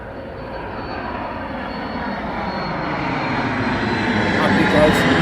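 An airplane takes off from London Luton Airport, its broad engine roar building steadily louder and closer throughout.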